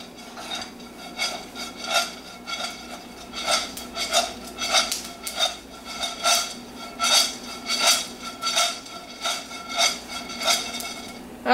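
Nuts toast in a pan for nut rocha and get tossed and stirred, making loud rhythmic clattering and rattling bursts that repeat about every half second, close up, with faint sizzling underneath.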